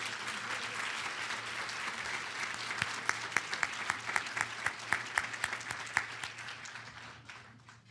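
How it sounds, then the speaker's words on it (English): Audience at Tacoma's 2014 State of the City address applauding steadily, a dense wash of many hands with a few sharper claps standing out, fading toward the end, with no talk over it. "Please, ladies and gentlemen, join me in a round of applause."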